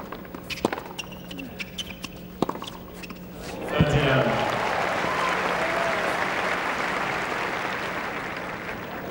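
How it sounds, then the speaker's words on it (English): A tennis match crowd bursts into loud applause mixed with whistles after a rally, with scattered claps and a commentator's voice talking early on before the clapping swells and carries on steadily. "A lot of whistles in the crowd for that man at the top of your picture, Rafael Nadal, who's watching courtside."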